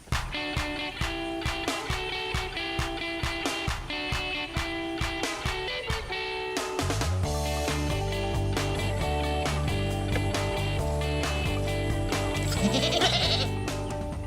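Sheep and goats bleat on a livestock farm in Botolan, Zambales, with repeated short, regular calls in the first half. A denser, louder mix of sound follows and fills the rest.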